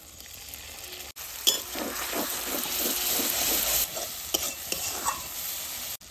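Sour yogurt hits a pan of frying spices for a Bengali fish curry of katla, giving a steady hiss and sizzle while a spoon scrapes and stirs through it in rhythmic pulses.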